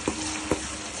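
Green chillies with onion and ginger paste frying in a pan for a fish curry, a steady close sizzle with two brief scraping stirs.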